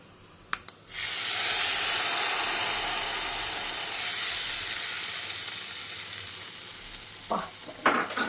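Vadagam seasoning, a sun-dried spiced tempering, frying in hot oil for a jackfruit-seed kuzhambu, giving a steady loud sizzle that starts abruptly and slowly fades, with brief clicks before it and clattering handling near the end.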